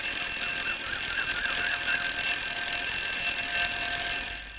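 An alarm clock rings continuously in a bedroom, a shrill, bright, steady electronic tone close by, with no voices over it.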